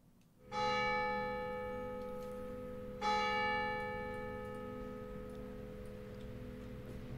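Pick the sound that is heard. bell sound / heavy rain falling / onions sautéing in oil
bell sound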